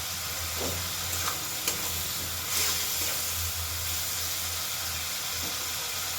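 Slit green chillies sizzling in hot oil with prawns, a loud, continuous, close frying hiss with a few faint scrapes and clicks of stirring.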